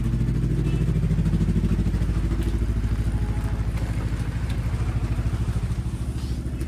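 A motorcycle that has just been started with its key idles close by in the rain, its engine putting out a steady, even low throb that eases slightly toward the end.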